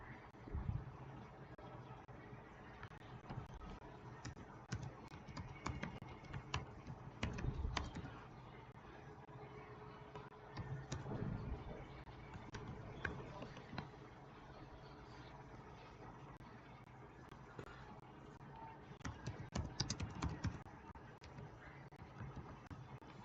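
Computer keyboard typing while someone writes C code to find the average of numbers, steady soft key clicks running throughout with a few louder bursts, low room hum underneath.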